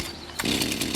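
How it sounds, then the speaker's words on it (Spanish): Chainsaw on a cold start, set on the ground and held down by a foot on the handle; a short, loud saw engine roar kicks in abruptly and keeps running close by. "Para el arranque en frío, deberá ponerse la motosierra en el suelo."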